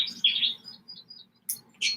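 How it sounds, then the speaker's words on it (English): Outdoor birdsong played back from a recording in a studio: several bright chirps and short tweeting phrases, with gaps of quiet between bursts, fairly clear and close. "it's just a bird track"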